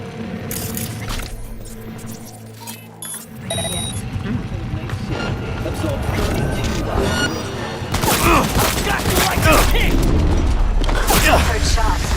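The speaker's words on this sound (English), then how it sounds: "Heard shots." Gunfire in a video game: bursts of shots and booms pile up into a dense, loud barrage that grows heavier toward the end, with voices talking over the action.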